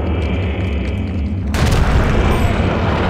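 A grenade blast in the horror video game Eternal Darkness: after a quiet hum, a sudden loud booming explosion erupts and its rumble fills the rest of the moment.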